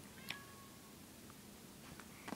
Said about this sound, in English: Sorry, ignore that. That was my cat.